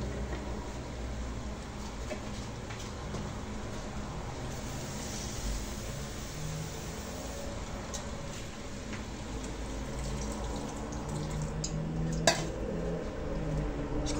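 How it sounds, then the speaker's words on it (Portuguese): Water is poured into a pot of braised beef in a home kitchen, giving a soft, steady hiss and patter that runs quietly and continuously, with a faint clink of cookware near the end. "Pôr um pouquinho de água."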